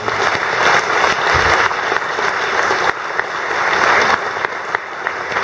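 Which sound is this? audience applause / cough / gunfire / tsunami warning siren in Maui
audience applause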